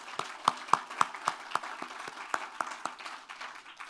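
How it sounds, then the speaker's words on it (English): A small audience at an outdoor groundbreaking ceremony claps in a sparse, fairly rhythmic series of distinct hand claps, quiet and somewhat distant, fading toward the end. "Let's give Jaden another round of applause."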